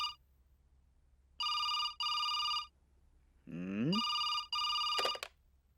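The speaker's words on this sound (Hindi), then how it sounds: "फोन उठाओ।" A telephone rings in repeated bursts of electronic bell trills separated by short pauses, fairly faint, with a brief voice-like sound heard between rings.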